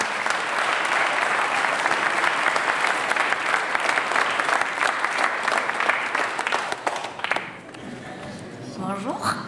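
Sustained audience applause, dense and loud, fills the room for several seconds before fading into quieter scattered claps and background noise.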